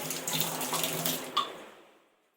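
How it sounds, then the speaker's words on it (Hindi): Hands are washed under a running tap, a close steady stream of water splashing for a moment before it is shut off and fades to quiet. "हाथ धो लेती हूँ"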